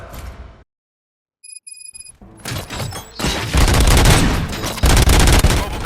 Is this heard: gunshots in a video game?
yes